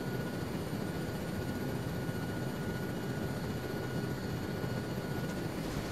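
A helicopter flies steadily nearby, giving a continuous broadband engine and rotor roar with a dense low rumble and no talk over it.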